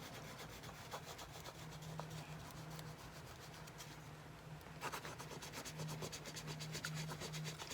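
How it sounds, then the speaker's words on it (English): Steady, soft scraping and rubbing on a junk journal page, continuous and close, with a faint low hum underneath. "And scrape, scrape,"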